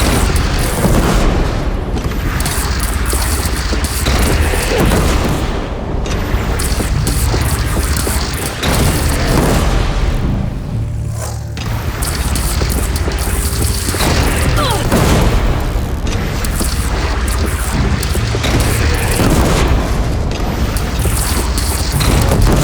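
Cannon fire and explosions in the video game Horizon Zero Dawn Remastered, heavy booming blasts rolling one after another with crashing debris, loud and dense through the whole stretch with little pause.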